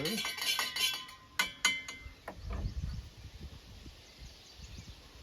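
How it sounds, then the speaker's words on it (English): A spoon clinks and scrapes against a cup while sugar is stirred into pour-over coffee outdoors at a Nova Scotia beach, with a quick burst of metallic tinks fading into soft rustling background. "Give it a stir"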